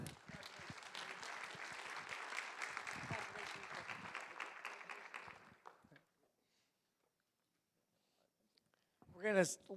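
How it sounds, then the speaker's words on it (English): An audience at a school board meeting claps warmly for about six seconds, then the room goes silent. A voice starts speaking at the end. "Let's please give them all a round of applause."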